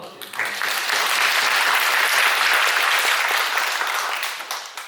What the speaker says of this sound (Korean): 우리 하나님께 영광의 박수 올려